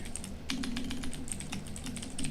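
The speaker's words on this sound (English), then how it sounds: "I'm typing at something" Rapid clicking of a computer keyboard, keys tapped in quick uneven bursts at close range with no talking over it.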